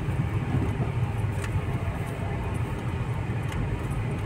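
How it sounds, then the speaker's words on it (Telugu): Dense, steady rumble of road traffic on National Highway 65 near Solapur, heard from inside a moving vehicle, with continuous engine and tyre noise and a couple of faint passing swishes. "ఫుల్ ట్రాఫిక్ ఉంది"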